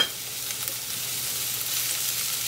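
Thinly sliced onion and whole peeled garlic cloves frying in a pan, giving a steady close hissing sizzle that continues without a break.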